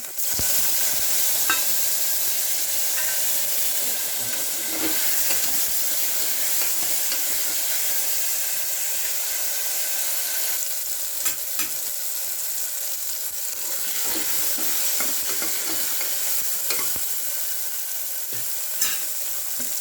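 Tomatoes sizzle steadily in hot, slightly browned oil in a pan for a dal curry, with a constant bright hiss broken by repeated scraping stir strokes.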